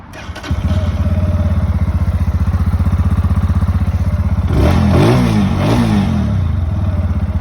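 A Lifan K19 fuel-injected 200cc single-cylinder cruiser motorcycle starts up and idles with a steady, close, thumping beat, then gets a couple of quick throttle blips midway.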